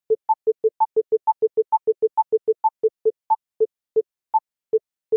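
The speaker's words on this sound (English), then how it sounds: "As I change the slider, you hear the rate change." Clicks from an iOS metronome app built with libPD as its tempo slider moves: clean electronic ticks, a higher accent tone leading each group, starting fast and gradually spreading out to a slower pace.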